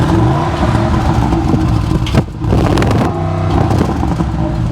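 An Audi RSQ8 with its backbox and resonator deleted revs loudly up close, a rough roaring exhaust that dips briefly in the middle and then climbs again, with no voices.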